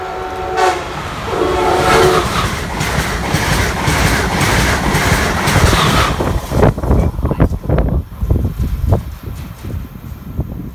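A train approaching and passing the station at Canton Junction sounds a horn near the start, then rumbles past loudly with a rhythmic clickety-clack of wheels over rail joints that grows choppier toward the end.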